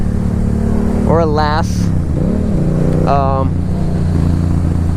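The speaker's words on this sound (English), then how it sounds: "this bike runs great" A Honda Rebel motorcycle engine idles steadily up close, its low rumble continuous throughout, with someone talking over it in two short bursts.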